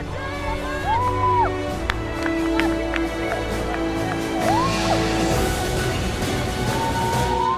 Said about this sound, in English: let's cheer on for Team Metsi